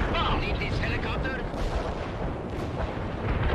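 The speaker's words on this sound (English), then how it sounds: "bunker buster the buildings, since there are infantry inside them" Bunker buster bombs pound buildings full of infantry in the video game World in Conflict, giving dense, rumbling explosions and crackling blasts that run continuously and loudly throughout.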